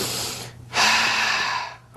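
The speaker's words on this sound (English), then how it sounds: "Listen to me as I breathe." A person breathes deliberately during a pressure-point martial arts demonstration, with one broad, airy exhale or inhale running steadily for about a second after a short pause, close and alone without talk.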